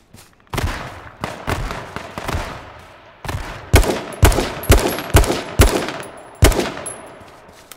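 Gunfight in H1Z1 heard as a string of sharp gunshot cracks, scattered at first then a quicker burst of evenly spaced shots, fairly distant with no talk over them.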